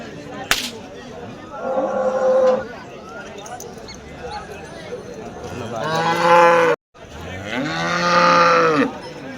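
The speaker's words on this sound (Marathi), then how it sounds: "सारा मोठा बाजार आहे मित्रांनो गायींचा" Jersey cows moo loudly several times at a cattle market in Vadod, long harmonic calls rising and falling, with crowd noise and a sharp crack in the background.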